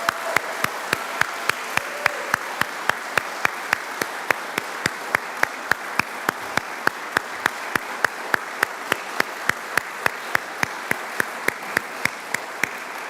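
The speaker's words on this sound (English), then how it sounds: "Let's give them all one big, nice round of applause." Audience applause at a school hooding ceremony, a steady room-filling wash of many hands clapping at an even rhythm that runs on without a break, sharp individual claps standing out over the crowd.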